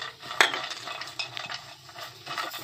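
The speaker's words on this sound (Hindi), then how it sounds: "अब ये काजू फ्राई करेंगे" Chopped almonds and cashews being fried and stirred in a pan over a medium-high flame, with a sharp utensil clink early on, then soft scraping, stirring and faint sizzling close by, no voices.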